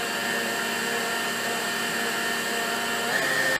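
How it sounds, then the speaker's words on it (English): An electric whisk mixing cake batter whirs with a steady, continuous motor drone close by, holding even for several seconds before cutting off abruptly at the end. "Final whisk before it starts going for colour."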